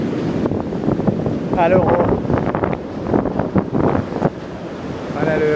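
Ocean waves wash onto a shore with steady wind rumble on the microphone during a coastal walk, with someone speaking briefly over the surf.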